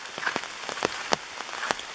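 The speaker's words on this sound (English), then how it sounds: "It's raining." Rain falling at a campsite in the Greenbrier Valley, a soft steady patter on a nearby surface with scattered sharper drops ticking at irregular moments.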